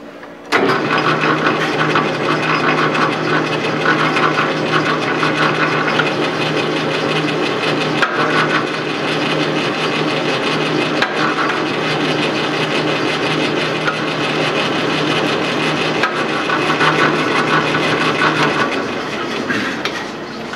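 A metal lathe knurling a workpiece with an Eagle Rock K1 44 knurling tool on a fast-running spindle, giving a loud, continuous mechanical whir and grind that holds steady for about twenty seconds with no talking.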